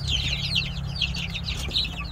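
A group of chicks peep continuously in high, thin chirps that overlap into a busy chorus, close by over a steady low hum.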